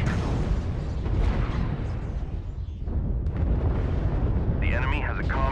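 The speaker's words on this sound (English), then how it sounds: "Artillery strike activated." Artillery strike explosions in MechWarrior Online rumble in a dense, continuous barrage of booming blasts, loud and close, with a brief whirring electronic tone near the end.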